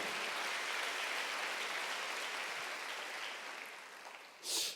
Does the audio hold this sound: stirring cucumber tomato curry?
no